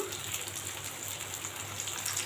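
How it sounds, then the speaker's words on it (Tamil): Cooking oil poured steadily into a frying pan for an elephant yam fry, a continuous close gushing pour with no talk. "தீரம் எண்ணெய் ஊற்றிக்கலாம்."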